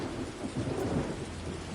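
Rain pours steadily with rolling thunder as an audio drama sound effect, a dense, continuous roar that stays loud and close through the short stretch.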